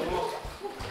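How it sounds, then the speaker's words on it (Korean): Bathwater sloshes and splashes in small waves as young children kick and play in a bath, a brief burst of close watery churning. "오, 파도 친다."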